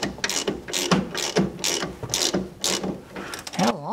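A pneumatic impact wrench hammering on a front axle bolt during truck suspension repair, loud rapid ratcheting bursts repeating in quick pulses, close and without talk.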